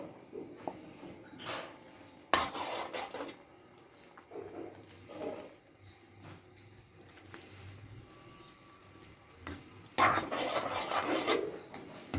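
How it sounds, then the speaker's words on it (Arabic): A spoon stirring molokhia soup with chicken broth in a pot, quiet scraping and swishing strokes coming in a few louder bursts amid low background noise, no talk. "هقلبها كويس واسيبها ما تغلي معايا"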